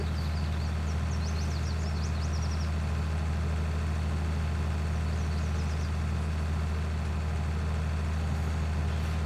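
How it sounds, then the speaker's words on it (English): Steady low engine drone of a tractor driving across a large field in Farming Simulator 19, a continuous heavy rumble throughout with faint high chirps layered above it. "Come on, tractor, let's go."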